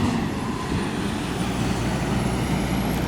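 A truck at an El Paso airport rumbles past with a steady, broadband low drone that holds evenly for about three seconds, with no talk.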